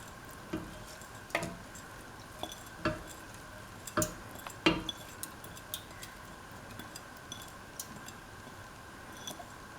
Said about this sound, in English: Mix the rice into the mixture.